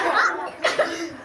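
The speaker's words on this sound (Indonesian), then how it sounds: "Kalau kita batuk" A single child's cough bursts out at close range in a classroom lesson on coughing etiquette, with short broadband bursts near the middle and faint voiced sounds around it.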